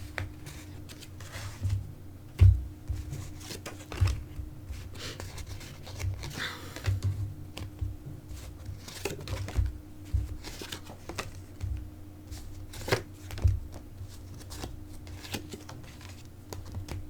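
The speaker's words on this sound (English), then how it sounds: "I'll pull a few more cards." Oracle cards are shuffled and pulled by hand. Soft papery riffles and rustles repeat close by, with occasional sharper taps as cards are set down.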